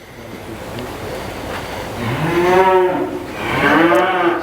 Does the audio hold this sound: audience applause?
no